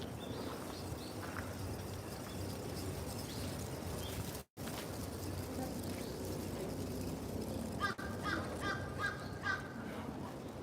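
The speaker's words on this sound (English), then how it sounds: "The crows crowing." A few crows caw in the distance during a city walk through Shiba Park in Tokyo, faint calls over a steady outdoor hum of traffic and insects.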